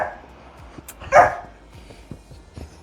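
A single dog's bark, a short sharp burst at moderate distance, sits among quiet household room sound with faint knocks and no talking.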